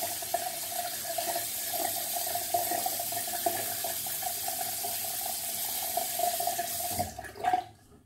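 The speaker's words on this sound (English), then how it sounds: "Sorry, I need a minute to rinse the handle here." A pipe handle rinsed under a running tap, with water splashing steadily into a sink at close range until the flow cuts off near the end.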